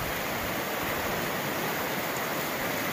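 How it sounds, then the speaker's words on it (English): A rushing river deep in a gorge gives a steady, even roar of white water, moderately loud and unbroken, with no voices. "Just a rushing river"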